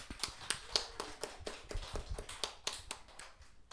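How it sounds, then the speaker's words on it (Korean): Small congregation giving encouraging applause at a short-term mission sending service, heard as faint, sparse individual claps in a loose rhythm, quiet and somewhat distant. "격려의 박수 치겠습니다."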